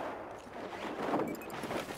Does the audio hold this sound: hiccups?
no